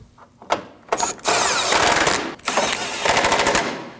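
An impact tool rattles 10mm bolts tight near the headlamp of a 2012-2016 Honda CR-V 2.4L during a radiator job, several loud bursts of rapid hammering broken by short pauses, close and alone.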